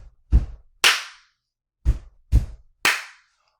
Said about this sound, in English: So it might be like 2 stomps with your foot, a clap, and then a rest.